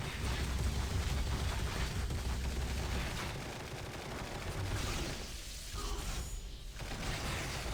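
Summoned turrets fire continuously in the video game Marvel Heroes 2016, a dense, loud wash of rapid gunfire and blasts with slight swells and dips.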